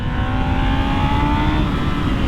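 A 1998 Yamaha R1 motorcycle with 150 hp pulls hard along a straight, its engine a loud, steady high-revving roar with rising tonal whine, close and continuous throughout with no talk.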